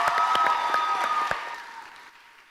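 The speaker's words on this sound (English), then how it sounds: "how about one more round of applause for all three of our project finalists?" Audience applause for three project finalists at a charity challenge final, a steady patter of clapping that thins and fades away over a couple of seconds.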